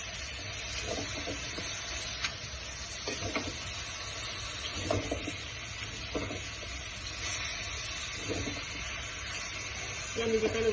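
Bean sprouts (togue) and mushrooms being stirred in a pan with a little moisture, a steady soft sizzle under repeated scraping strokes of a utensil, close and moderately quiet throughout.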